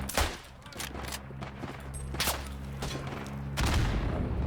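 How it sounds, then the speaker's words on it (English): Rifle and machine-gun fire in the World War 1 mountain warfare game Isonzo, with a dense crackle of distant shots and a few sharper nearby cracks over a steady low rumble of battle. "There's shots coming from even further to the right"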